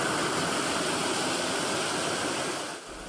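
Floodwater rushes across a road in Central Nebraska with a dense, steady roar of fast-moving current that stays loud and continuous before dipping slightly at the end.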